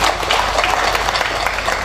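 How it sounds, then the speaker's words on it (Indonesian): An audience at a 2023 graduation ceremony on the STAIFA Pamekasan campus claps in a dense, sustained round of applause filling the whole moment. "Tepuk tangan untuk kita semua."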